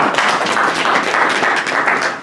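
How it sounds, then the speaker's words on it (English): An audience at a sports tournament press announcement in Sandton applauds, producing a dense, steady wash of many hands clapping at moderate volume that carries on without a break and fades slightly at the end. "Let's give him a big round of applause, ladies and gentlemen."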